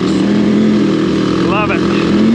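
A loud, steady motorcycle engine rumbles close by, holding a low growling idle with a brief higher rev partway through.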